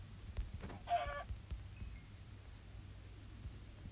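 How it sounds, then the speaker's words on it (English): Chickens in the Minecraft video game giving a few short, clear clucks close by, then quiet ambient hum. "I'm gonna kill those chickens"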